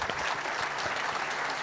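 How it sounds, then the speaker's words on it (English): An audience at a SXSWedu 2014 education conference session breaks into a short burst of steady, dense clapping that fills the room without pause. "could we just applaud those words and those ideas?"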